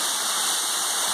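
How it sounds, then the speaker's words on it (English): Manoa Falls, the second waterfall on a jungle hike, roars as a loud, steady broadband rush of falling water, close and continuous with no voices over it. "Manoa Falls, second waterfall."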